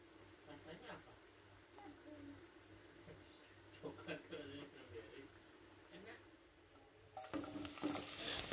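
Food fries gently in a pan over low to medium heat, a faint, steady sizzle with occasional stirring clicks under continuous talk, growing into a brighter, louder hiss near the end.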